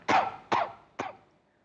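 Three sharp coughs in quick succession from a sick patient, each a short harsh burst, the last one somewhat weaker, close to the listener with no other sound around them.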